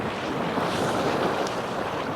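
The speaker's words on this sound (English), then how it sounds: "the water's coming in. It's quite swelly here." Swelling sea waves roll in at a fishing shore after a stormy spell, producing a loud, continuous rushing surf with buffeting wind noise across the microphone.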